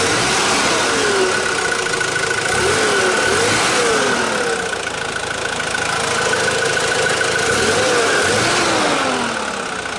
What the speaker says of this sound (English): As you can tell, she's not a noisy old diesel just yet.